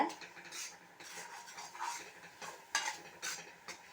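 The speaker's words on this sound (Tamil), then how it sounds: "கிரேவியாக வரட்டும், அது வரைக்கும் கிளறிக்கிட்டே இருங்க" Mango halwa being stirred in a pan, with a spoon scraping and clinking against the metal in uneven strokes and soft bubbling underneath, fairly close and with no talk.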